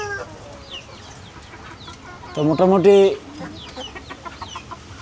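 Chickens cluck in a burst of loud, close calls midway through, amid steady rain on a farm, with a voice speaking briefly over the background.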